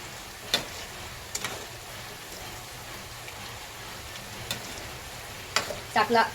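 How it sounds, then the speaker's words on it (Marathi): Chicken 65 frying in oil over a low flame gives a steady, soft sizzle with a few sharp clicks and pops scattered throughout, and a cluster of crackles near the end, with no speech. "बारीक गॅस ठेवून तळून घेऊया"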